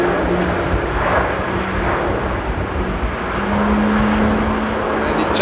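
China Cargo Boeing 777 freighter taxiing across a runway at Amsterdam airport in stormy weather: a continuous, fairly loud jet engine whine and rumble mixed with broadband wind noise, with no voices heard.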